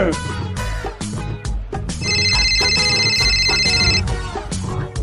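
A phone rings for an outgoing call, a bright, steady electronic tone lasting about two seconds over busy background music and other sounds.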